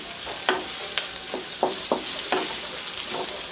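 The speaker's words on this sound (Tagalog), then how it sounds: "So, pwede natin lagay yung bawang natin." Garlic sizzles in a hot pan for pancit canton guisado, a constant close hiss of frying with repeated short scraping strokes as it is stirred, no voices.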